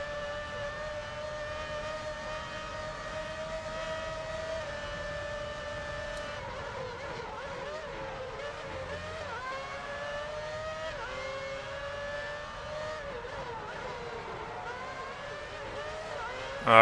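A Formula One car engine whines steadily in the F1 Championship Edition racing game, holding a high, sustained pitch that rises and falls through gear changes as the car accelerates.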